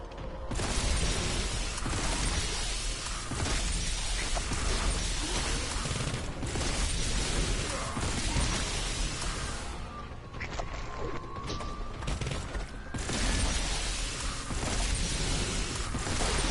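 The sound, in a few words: grenade explosion in Warhammer 40K Boltgun video game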